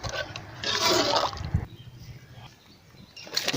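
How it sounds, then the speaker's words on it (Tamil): Water is poured into a pot of village-style sangara fish curry, a brief splashing gush that stops abruptly and leaves quiet trickles and faint clinks nearby. "இப்போ நம்ம தேவையான அளவு தண்ணி ஊற்றிக்கலாம்."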